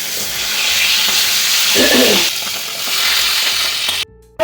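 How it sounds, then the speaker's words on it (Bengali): Hilsa fish sizzles lightly in a pan of hot oil, a steady close frying hiss with a brief stirring clatter in the middle, ending abruptly. "মাছগুলো তুলে নিই, হালকা ভেজে তুলে নিচ্ছি।"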